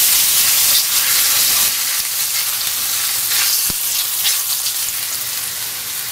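Chopped pepper sizzles loudly in a hot frying pan, a dense, continuous close-up crackle and hiss that swells briefly as it settles, with no voices over it.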